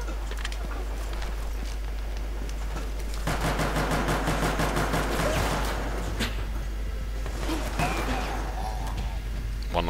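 Gunfire in Resident Evil Operation Raccoon City on Veteran mode, rapid repeated shots forming a dense, rhythmic burst that starts a few seconds in and keeps going over a steady low hum, with sporadic sharper cracks later.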